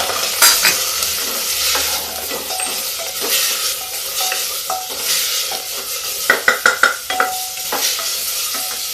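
Onion and tomato frying in a pan for a pointed gourd curry, a steady sizzle with repeated scraping stir strokes and a cluster of sharp utensil clinks near the end, close and loud.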